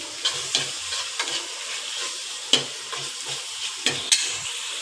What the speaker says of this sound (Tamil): இதுவும் நல்லா வதங்கினதுக்கப்புறம் இது கொஞ்சம் தக்காளி கொஞ்சம் மசையணும்